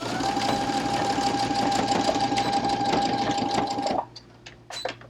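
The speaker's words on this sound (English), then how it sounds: "we're going to take that to our sewing machine and we're going to sew at 1/4 inch" A sewing machine hums steadily as it stitches a quarter-inch seam in fabric for an iPad pouch for about four seconds, then stops, leaving a few quiet clicks and handling noises.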